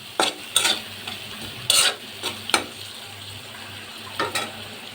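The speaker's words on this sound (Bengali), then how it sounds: "এখন একটু মশলাটা কষিয়ে নিব।" Chopped prawns with turmeric, chili powder and salt sizzle in a pan while a spatula scrapes and stirs in repeated brisk strokes over a low hum. Nobody speaks.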